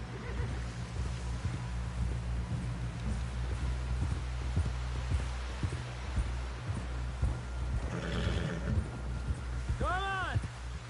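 Horse hooves clop in a steady rhythm in Red Dead Redemption 2, moderately close under a constant low rumble, with a short rising whinny near the end.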